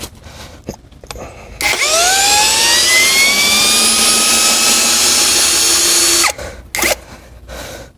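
A KAMOLEE cordless drill driver powering an ice auger revs up hard and bores into ice, a loud sustained whine that climbs in pitch and holds for several seconds before stopping, with brief handling noises before and after.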